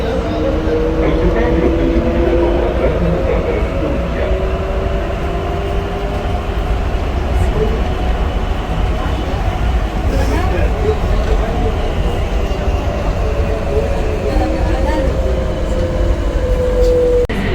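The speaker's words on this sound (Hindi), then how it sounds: "तो ये है metro train for the international" Airport metro train in Jeddah running between terminals, a steady loud rumble of the moving carriage with faint rail clatter throughout, while people talk and announcements play over it.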